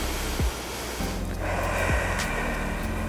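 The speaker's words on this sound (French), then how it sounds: "Et on prend les bonnes respirations." Slow, deep breaths during a neck stretch, with a couple of sharp nasal inhalations and steady exhales close to the microphone.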